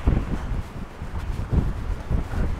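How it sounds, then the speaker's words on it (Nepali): Gusty wind buffets the microphone beside a mountain lake in Colorado's Rocky Mountains, a continuous low rumble swelling in a few stronger gusts with no voices. "हावा मस्त चलिरहेको छ"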